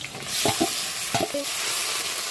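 Marinated chicken is added to a hot pan with garlic, raising a continuous sizzle with a few clinks and scrapes of stirring up close.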